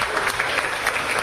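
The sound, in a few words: classroom applause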